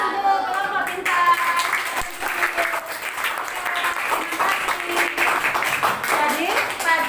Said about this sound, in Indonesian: Berikan aplaus untuk kelompok bintang.